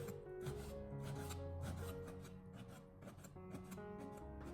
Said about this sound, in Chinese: 切好以后给它再横过来，再切上几刀，把酸菜的叶子再切小一点